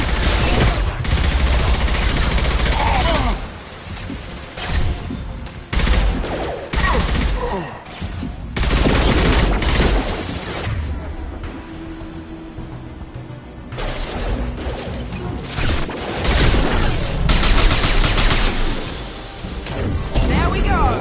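Sustained gunfire in Mass Effect 2: dense bursts of automatic fire and heavy impacts crash continuously, broken by a brief lull, with voices speaking over the battle.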